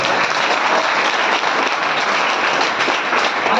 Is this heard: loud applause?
yes